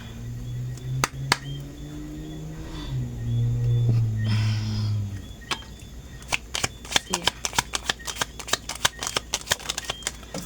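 Tarot cards are shuffled by hand, first with a soft sliding riffle under a low hum, then a long run of quick, crisp card slaps and flicks that grows faster toward the end.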